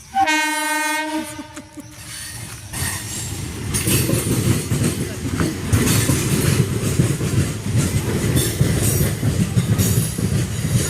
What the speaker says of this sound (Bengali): ট্রেন যাচ্ছে ট্রেন দেখো